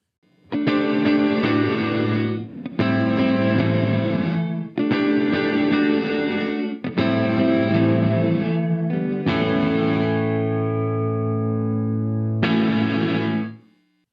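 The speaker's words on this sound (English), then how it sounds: "So once the tail reaches a certain level, the gate goes, you're cut off." Distorted guitar chords ring out through a Hardwire RV-7 stereo reverb pedal, each abruptly chopped off by gated reverb, leaving sudden silences between the loud, squared-off blocks of sound.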